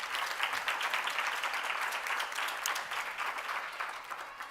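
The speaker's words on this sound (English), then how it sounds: "Please give Celia Au a round of applause for me." An audience at a college awards ceremony gives a sustained round of applause for an honoree, the dense patter of many hands holding steady before tapering slightly.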